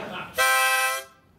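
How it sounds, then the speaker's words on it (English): A blown mouth organ gives one short, bright, reedy chord of about two-thirds of a second that sounds like a horn toot. It follows a moment of quiet background murmur. "Well, how about the mouth organ?"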